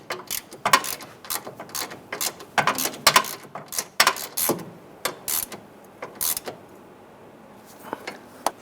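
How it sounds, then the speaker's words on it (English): Ratchet snugging down a bolt on the high-pressure power steering line of a 2005-2010 Chrysler 300, giving bursts of close, crisp clicking with short pauses between strokes and no talk. "just go ahead and snug this bolt down into place"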